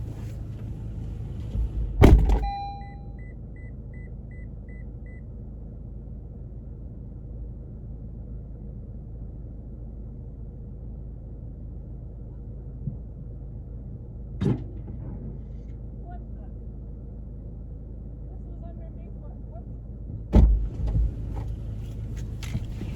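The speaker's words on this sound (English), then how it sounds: "I've just been dragging a PVC pipe under." A steady low rumble of a car driving with a PVC pipe dragging underneath, with a few sharp clunks and knocks from underneath at scattered moments.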